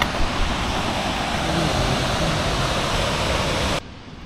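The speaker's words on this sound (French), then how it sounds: "On entend bien la cascade, elle a l'air fat." Roaring waterfall at a hiking destination, heard up close as a loud, steady rush of broadband water noise that cuts off abruptly near the end.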